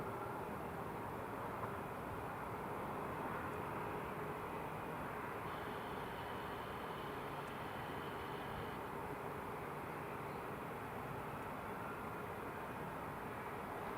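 An aircraft rolls down the runway after landing at Newcastle International Airport, a faint, distant, steady rumble with a soft whine that holds evenly throughout.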